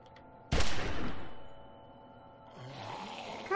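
A single loud gunshot cracks in Telltale's The Walking Dead Episode 4 and rings out in a long fading tail, followed by quieter rustling movement.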